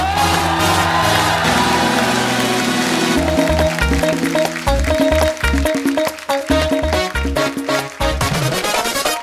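Studio audience on a Hindi TV comedy show applauding and cheering loudly for a guest's entrance, with shouts and whoops over dense, driving entrance music with heavy beats throughout.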